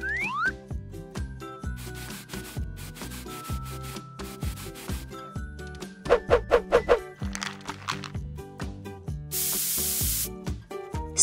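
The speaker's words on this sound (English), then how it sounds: "Spray the paint on the doll again." A spray can of paint hisses in one steady burst near the end, after a stretch of clicks, rubbing and light tapping over background music.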